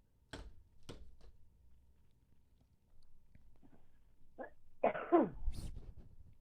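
A man coughs a couple of sharp single times early on, then after a pause lets out a louder, rougher cough burst near the end, close to the microphone in an otherwise quiet room.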